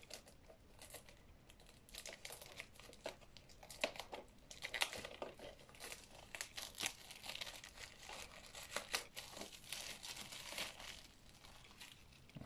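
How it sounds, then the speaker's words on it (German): Plastic packaging being torn and crinkled off a Rambo Last Blood steelbook, a steady run of quiet, close crackles, rips and crunches with no talking. "Ein Steelbook von Rambo Last Blood. Das Ding wird jetzt nochmal schnell ausgepackt."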